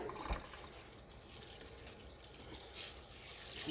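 Basmati rice is washed in water by hand, a soft, fairly quiet sloshing and trickling of liquid that runs continuously with a small splash near the start and swells again at the end.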